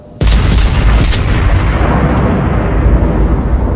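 Battleship guns on the USS North Carolina fire shells in the World of Warships video game: one sudden, loud blast followed by a long, heavy rumbling roll that fades slowly.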